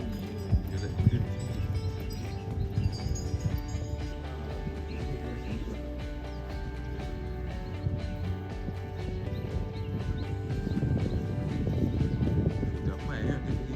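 Horse hooves clip-clopping on a busy street in Songkhla, Thailand, a steady clatter mixed into crowd bustle and traffic, with people talking over it.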